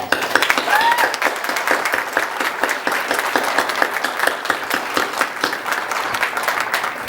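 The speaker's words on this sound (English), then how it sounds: "another round of applause" An audience claps steadily through a formal retirement ceremony for a lieutenant, a dense, even wash of hand claps sustained for about seven seconds, with a brief vocal whoop near the start.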